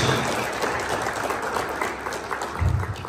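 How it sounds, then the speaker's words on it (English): Warm audience applause at an Ethiopian ministerial press conference, a thick sustained patter of many hands clapping throughout, fairly close and even, with a low thump near the end. "Please give a warm clap."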